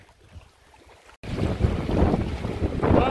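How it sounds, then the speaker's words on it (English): Strong wind buffets the microphone in a loud, roaring rush after a brief quieter start, with gusts rising and falling, on a lake. "Well, it's crazy windy today."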